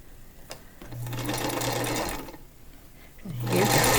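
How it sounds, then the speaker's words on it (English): A sewing machine stitches a quilt block in two steady motorized runs with a pause between, the second run louder and closer, with no talking. "I'm going to sew on either side of it."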